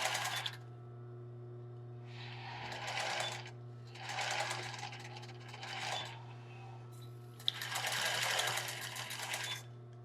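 A sewing machine stitches lace for a bra in zigzag, running in three short bursts with pauses between them, the last burst longest, over a steady low motor hum.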